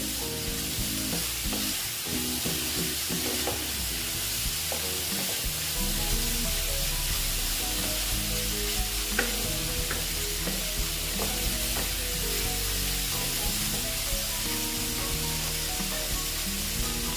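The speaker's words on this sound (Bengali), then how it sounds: "সয়াবিনগুলো দিয়ে আবার কষিয়ে নিচ্ছি সয়াবিনের সঙ্গে ভালো মতন কষিয়ে নেব" Soybean chunks sautéed in a pan make a continuous close sizzle with frequent stirring and scraping, steady and moderately loud for the whole stretch, no speech.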